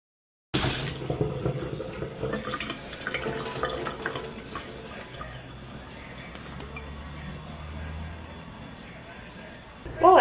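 Tap water runs steadily as a microfiber mop is rinsed in a sink, a close continuous splashing hiss with a brief louder burst at the end.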